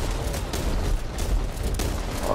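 Shotgun fire from the video game Back 4 Blood comes as a dense, loud, booming volley of blasts running together across the whole moment.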